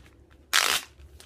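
A plastic bag holding an art print crinkles in one quick, crisp rustle as the print is slid out, close by and otherwise quiet.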